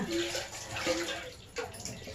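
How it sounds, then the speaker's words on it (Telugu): A steel sambar pot is rinsed and washed with water in a home kitchen, giving a continuous splashing and trickling wash with a brief lull midway, while a voice speaks faintly over it. "జ్యూస్ తీసుకున్నాక సాంబార్ గిన్నెని కడిగి శుభ్రంగా"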